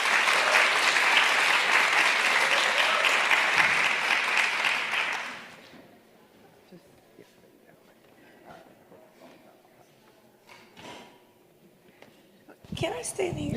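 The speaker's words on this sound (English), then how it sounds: "Please give a round of applause to Irene Jones" Audience at a climate justice summit applauding a speaker, a loud sustained round of clapping that fades out after about five seconds, followed by quiet room noise, scattered small knocks and a short rustle at the end.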